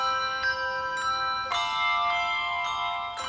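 Handbells rung by a cathedral handbell ringers' group in Dunblane, a few clear, bright strikes at uneven intervals whose tones ring on and overlap, close and fairly soft.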